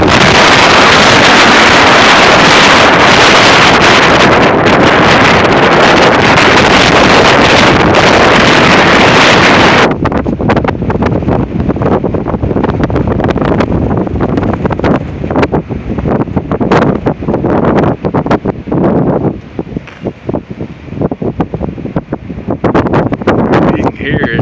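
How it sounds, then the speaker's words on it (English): Roaring 60 mph windstorm gusts in Oklahoma blast loudly and continuously across the microphone, a heavy buffeting rush that eases slightly midway but keeps gusting throughout. "That's easy 60-mile-an-hour wind."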